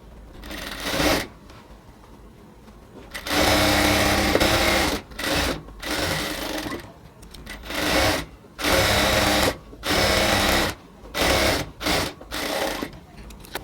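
A sewing machine stitches pieces of a ladies' pant in loud, repeated runs of a few seconds each, with short quiet gaps between bursts, close up and with no talk.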